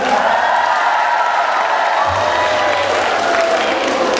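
Church congregation at a teachers' thanksgiving service cheering and applauding student teachers, a loud continuous roar of clapping and voices filling the room.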